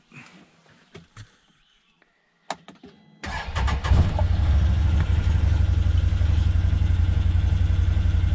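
A Can-Am Defender utility vehicle's engine cranks and catches after a few quiet clicks and handling sounds, then settles into a loud, steady close-range idle as it warms up.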